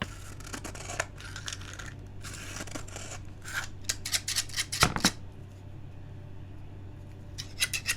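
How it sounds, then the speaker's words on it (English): A pair of scissors is sharpened up close with a series of rhythmic scraping strokes, some quick and some drawn out, with no talking. "I need to sharpen these scissors up"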